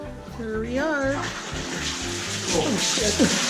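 Hot spring water splashes and gushes steadily at close range on an Alaskan shore outing, with voices talking over it throughout.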